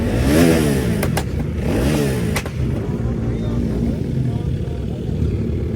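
A KTM RC superbike engine revs in rising, falling sweeps for the first couple of seconds, then settles into a steady idle rumble, with someone talking over it throughout.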